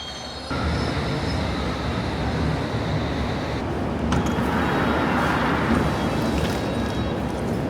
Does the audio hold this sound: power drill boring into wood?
no